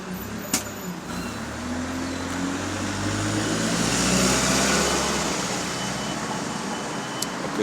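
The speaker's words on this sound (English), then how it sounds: "driver was messing with the throttle a bit there" A road vehicle's engine hums steadily nearby as the driver presses and releases the throttle, its pitch rising and falling in a broad swell amid roadway noise.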